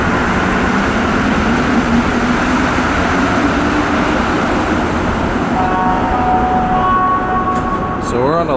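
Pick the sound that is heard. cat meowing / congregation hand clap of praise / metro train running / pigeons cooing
metro train running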